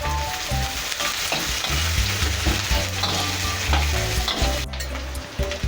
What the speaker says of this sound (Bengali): 2-3টে তেজপাতা দিয়ে দিলাম।